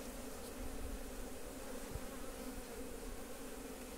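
Honey bees hum steadily in a dense, continuous buzz at an open hive during beekeeping work, with a low droning mass of insects close by and no other sounds standing out.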